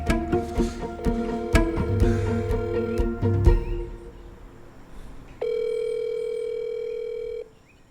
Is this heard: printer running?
no